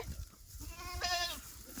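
A goat bleats once with a wavering, nasal cry in an outdoor village yard, fairly close, amid low background rumble and a quiet voice nearby.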